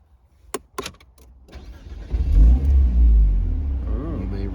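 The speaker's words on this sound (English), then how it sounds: "Put your foot on the brake, you can start it up." A Renault Alpine A110 engine cranks over after a few clicks and catches with a loud, close rumble, then settles into a throbbing idle with a slight rev.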